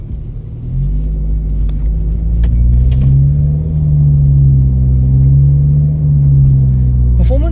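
A VW Polo 1.2 TSI with its muffler and resonator removed revs loudly up close, the exhaust note rising and falling through several swells before dropping back to a deep idle rumble.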